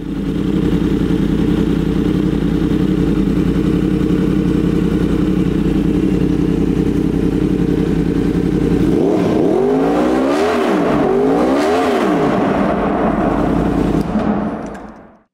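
A 2016 Yamaha YZF-R1S with its crossplane engine idles steadily and loudly up close, then is revved in several quick sweeping blips toward the end, alone with no talk.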